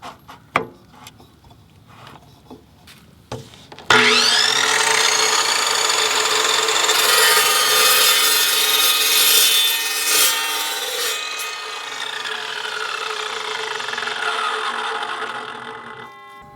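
After a few light knocks, a chop saw cuts through mild steel tubing held in a tubing adapter, a loud continuous grinding whine lasting about twelve seconds before it winds down.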